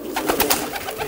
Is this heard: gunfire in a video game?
no